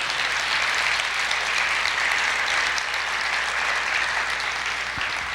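A church congregation applauds during a sermon, a dense, steady wash of many hands clapping that holds loud and unbroken throughout.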